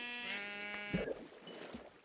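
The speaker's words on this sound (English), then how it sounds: "And a white sheep? And a black sheep? And a gray sheep?" A Minecraft sheep gives a short, close bleat, a wavering nasal cry lasting about a second, followed by a couple of faint clicks in the quiet game background.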